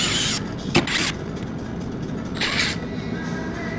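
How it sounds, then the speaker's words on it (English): Screws being backed out of an RV roof gutter with a driver, giving a continuous grinding, creaking mechanical whir, close and fairly loud, with a sharp squeak early and a brief surge later. "So we'll pull these screws out."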